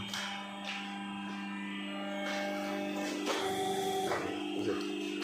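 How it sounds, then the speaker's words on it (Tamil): An areca leaf plate making machine with an aluminium blade presses and cuts plates, giving a loud steady mechanical whine and hum with strong tonal drones and heavier thumps near the end. "அதுவே கட் பண்ணிடுது இல்லை கட் பண்ணி பிளேடு மாதிரி இருக்கும் அலுமினியம் பிளேடு"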